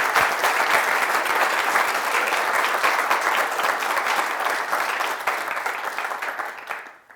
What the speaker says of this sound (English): Just a round of applause, please,